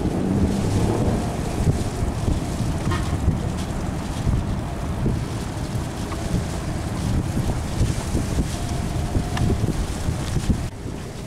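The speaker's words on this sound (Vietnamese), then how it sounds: "Đây là một chiếc xà lan nữa này, ở dưới cũng đang chạy lên ha." A barge pushes upriver through strong wind and rough waves, with a steady, loud broadband rush of wind buffeting and water churning throughout, and no talk.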